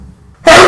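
A character sneezes in the video game Shadwen, a single sudden loud burst after a near-silent lead-in.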